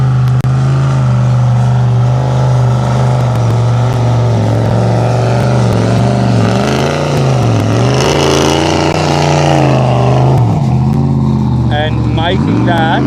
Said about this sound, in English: Sees the Kinsella Can-Am behind him and goes, no time to mess around